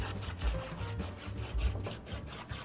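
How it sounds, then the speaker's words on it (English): Sanding cloth scrubs back and forth over a metal water pipe, a rhythmic, rasping rub repeating about twice per second, close and steady with no talking. "Do a down and dirty cleanup on this pipe with some sanding cloth."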